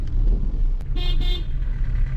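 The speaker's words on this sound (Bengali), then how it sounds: "কখন থেকে হর্ন মারছি" A car horn honks twice in quick succession on a busy road, over steady traffic rumble and engine noise.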